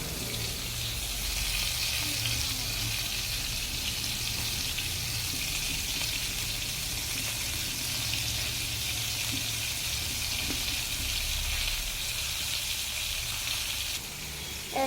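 Kora fish frying in a pan in oil, giving a continuous, even crackling sizzle that holds steady throughout and drops off briefly near the end, heard close with no voices over it.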